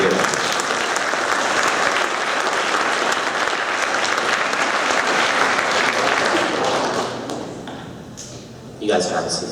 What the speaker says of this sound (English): A round of applause for our Students of the Year.